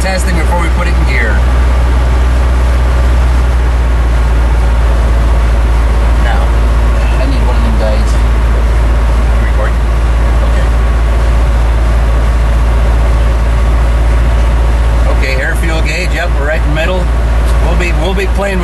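A 1976 Dodge Power Wagon with a 360 engine, fuelled by a wood gasifier, idles loudly with a steady deep rumble and drone while someone talks over it.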